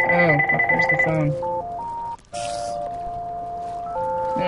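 A telephone rings in a Minecraft modpack game, a steady electronic ring tone followed by automated phone tones, with a voice talking over the first part.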